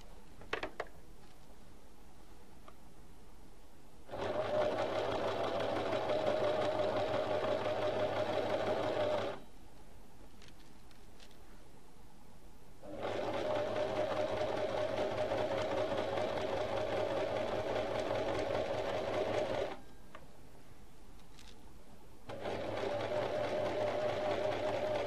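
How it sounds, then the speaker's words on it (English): A sewing machine runs in three long bursts, stitching fabric strips onto a background fabric, with brief quiet pauses between runs; the steady mechanical whir is close and fairly loud, and no one speaks. "sew on your strips onto your background fabric using a sewing machine"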